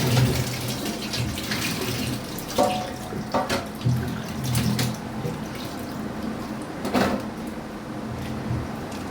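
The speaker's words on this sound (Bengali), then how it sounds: "পেঁপেগুলো নিয়ে চলে এসেছি, ভালো করে একটু ধুয়ে নিচ্ছি।" Papayas are washed under running tap water, a steady rushing stream close by, broken by intermittent splashes and knocks as the fruit is handled.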